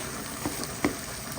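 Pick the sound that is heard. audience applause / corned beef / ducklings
corned beef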